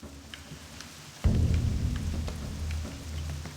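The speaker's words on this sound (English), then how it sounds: "So we're going to get some rain for the rest of the episode." Rain in World of Warcraft Classic starts up suddenly with a low rumbling surge, then settles into a dense steady patter of drops that carries on at moderate loudness with nothing else heard.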